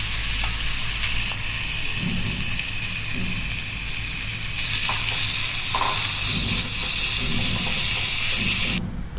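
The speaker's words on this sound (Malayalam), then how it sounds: "ഓയിൽ നന്നായി ചൂടായി വരുമ്പോൾ ചിക്കൻ ഇട്ട് കൊടുക്കാം." Chicken shallow-fries in hot refined oil in a pan for chilli chicken rolls, a loud, close, constant sizzle and hiss with occasional stirring scrapes.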